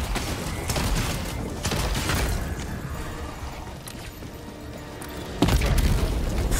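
Heavy cannon turret fire and explosions in a Helldivers 2 battle against machine enemies, a loud rumbling barrage with a sharp, forceful blast near the end.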